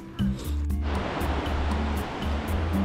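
Mountain river in Barot Valley rushing steadily in a loud, broad roar close by, with people talking over it.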